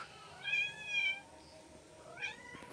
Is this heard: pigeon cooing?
no